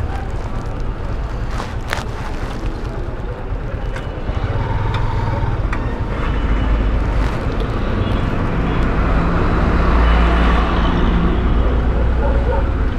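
Dense traffic jam on a street in Dayaganj, a steady broadband roar of engines and vehicles close around, with occasional horn-like tones and faint voices mixed in throughout.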